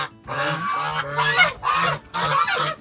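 Gray geese on a small farm honk close by in loud, repeated nasal calls, several bursts in a row with brief pauses between them and no talking.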